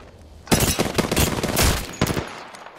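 Rapid automatic gunfire in the video game Apex Legends, a loud burst of dense, crackling shots that starts abruptly and rattles on for about two seconds with a brief break near the end.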